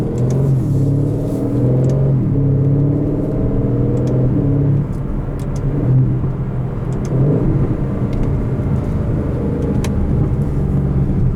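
A 2018 Aston Martin DB11 V8 cruising on the road, heard from inside the cabin; a steady low engine drone and road rumble continue without a break, loud, with no speech.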